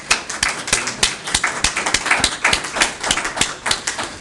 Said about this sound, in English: I think they would appreciate a round of applause